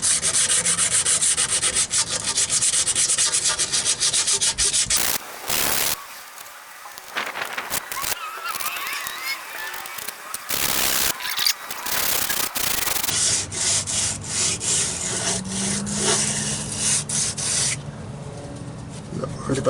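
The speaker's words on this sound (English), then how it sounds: "I got some sandpaper. This is 180 wet." Dense, steady rubbing rasp of 180-grit wet sandpaper worked hard against the cast iron of a 1965 Econoline rear differential, close up, with a few brief pauses between strokes.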